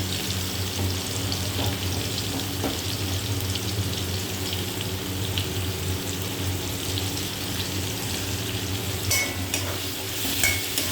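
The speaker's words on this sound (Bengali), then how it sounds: "এবার এই তেলের মধ্যেই আমি এই আলু ভাজা তেলের মধ্যে পেঁয়াজগুলো দিয়ে দেবো।" Onions fry in oil left over from frying potatoes, giving a constant close sizzle with faint stirring scrapes and no voices.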